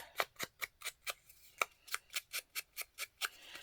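Scissors snip through paper in a steady run of about fifteen crisp cuts, evenly spaced and fairly faint, while working on a pocket flip for a subway bag journal; no one speaks.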